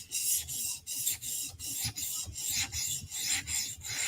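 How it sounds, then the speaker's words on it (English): A Protech Mordax knife is sharpened on a 400 grit stone in a TSProf Kadet guided system, giving a close, dry rasping scrape in regular strokes of about two per second, with no voices. "I felt the burr the whole way down, so we just re-apexed it with the 400 grit stone."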